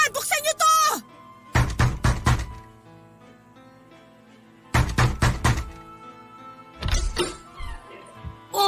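Loud, rapid bursts of pounding on a wooden door in a Filipino radio drama, several volleys of heavy knocks separated by pauses, with someone shouting angrily between and over them.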